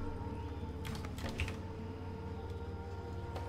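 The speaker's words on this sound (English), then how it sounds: "May I just type Hellfire?" Quick bursts of keystrokes on a computer keyboard while playing World of Warcraft, a short cluster of clicky taps near the middle over steady faint background hum, close and fairly quiet.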